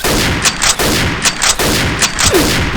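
Loud, close gunfire in the shooter game XSHOT, four heavy shots at a steady rhythm about every 0.75 second, each with a sharp crack and a booming tail, with no talk.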